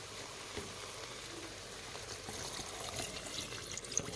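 Water poured over 200 grams of red lentils, a steady close trickle and splash lasting throughout with no one talking.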